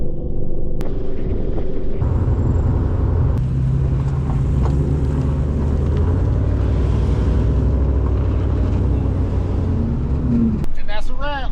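Lowered Ford F150 pickups and Mustangs drive off together in a steady, loud, low engine rumble that holds throughout, with exhaust drone and a brief rise near the end.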